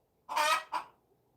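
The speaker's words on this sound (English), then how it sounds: "Millie's gonna lay an egg. That's why she's squawking." A hen squawking before laying an egg, giving two loud, close squawks in quick succession, a long one followed by a shorter one, alone with no talk.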